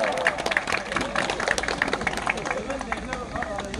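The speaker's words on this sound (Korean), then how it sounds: "박수!" An audience at an outdoor music volunteer group performance at Seonam Lake Park in Ulsan claps and applauds, dense and continuous, with voices talking over it.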